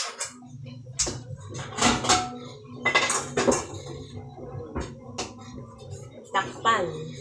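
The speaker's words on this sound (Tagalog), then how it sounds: "sabay tatakpan ko na" Metal clatters and clinks as a lid goes onto a pot of bottle gourd soup, with sharp scattered knocks of cookware close by while a voice speaks faintly underneath.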